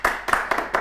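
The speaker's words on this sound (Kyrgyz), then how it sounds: "кол чабуулар" An audience at a comedy show applauds, with a brief run of four or five distinct claps in a fairly regular rhythm, close and clear.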